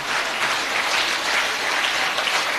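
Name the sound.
audience applause at a poetry gathering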